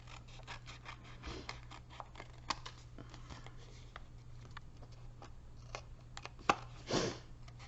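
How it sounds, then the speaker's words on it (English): Scissors trim the edges of designer series paper in a series of quiet, close snips and paper rustles, with a louder crisp cut and a scrape near the end. "All right, so let me cut off these edges."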